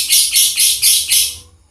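A lovebird gives five rapid, shrill chattering bursts in an even rhythm, loud and close, before trailing off.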